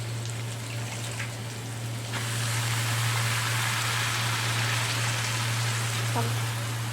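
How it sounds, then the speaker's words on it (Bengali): Leafy greens are added to a pan of half-fried potatoes, and the sizzle surges louder partway through into a steady hiss and crackle with a low hum beneath, without speech. "শাকগুলো দিয়ে দিচ্ছি ওর মধ্যে"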